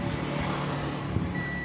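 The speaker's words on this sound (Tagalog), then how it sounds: "Ayan, nagbabuzz po yung tester natin." A digital multimeter's continuity buzzer sounds briefly while testing a shorted transistor in a 21-inch Samsung CRT TV, a thin steady tone near the end over a low background hum.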